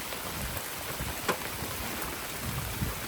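Steady rain falls on a surface, a dense continuous patter with a few louder drops standing out, heard alone without voices.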